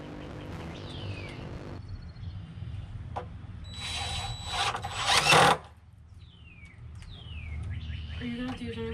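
Power drill driving screws while building a bulkhead and stairs, one loud, close whirring burst of several seconds in the middle, surrounded by quieter background sounds and faint chirping.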